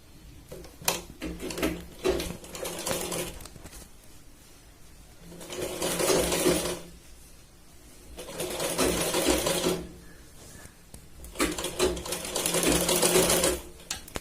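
Sewing machine stitching the round cup section of a katori blouse, running in three long bursts of steady whirring with short pauses and fabric handling between, close and clear with no talk.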